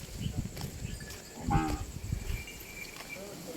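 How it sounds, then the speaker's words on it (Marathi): A calf moos once, close and clear, with a rising-and-falling call over low rumbling farmyard noise and faint background chatter. "ये गाईचे पिल्लू"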